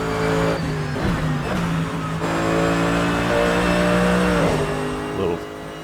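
A Mercedes-AMG GT3 race car engine roars in a racing game on Northern Irish public roads, loud and sustained, with gear changes breaking the drone several times.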